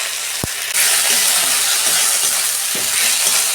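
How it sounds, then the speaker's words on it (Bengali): Ginger-garlic paste goes into a pan of fried onions for mutton curry: a sharp clink, then a loud close sizzle that holds steady, broken by a few soft scraping stirs. "ভালো করে কষতে নেবো যতক্ষণ আদার গন্ধটা না যায়"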